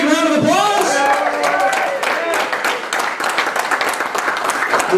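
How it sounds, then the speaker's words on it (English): A room full of people applauding for Paige, a loud, dense spread of clapping with a few cheers that carries on steadily after a voice trails off at the start. "Let's give Paige a big round of applause!"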